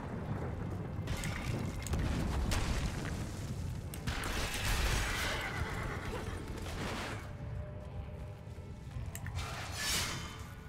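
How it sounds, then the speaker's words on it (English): A horse neighs and whinnies in the Diablo 3 video game, several drawn-out calls against a windy, rushing game ambience, with no talk over them. "Come on, horsey."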